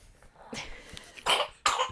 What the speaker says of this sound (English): Just had a bit of a cough.